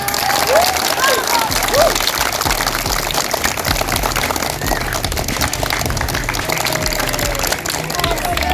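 A crowd claps and cheers at an elementary school event in Pademau district, a steady dense wash of applause lasting throughout, with a voice faintly over it.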